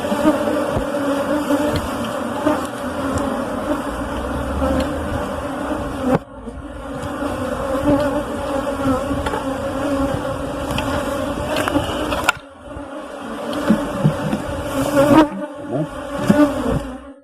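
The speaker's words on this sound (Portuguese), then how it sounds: "diferente das abelhas nativas, essa ainda voa." Honey bees buzz steadily around a Brazilian apiary, a dense continuous drone from many insects close by, with a few brief breaks and louder passes as individual bees fly near.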